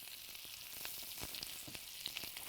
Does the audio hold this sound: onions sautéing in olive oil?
yes